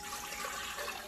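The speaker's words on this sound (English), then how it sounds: "The first thing that you want to do is add 2 cups of hot water" Hot water splashes steadily into a mixing bowl, a brief continuous rushing pour with a hollow, bright wash, fairly quiet.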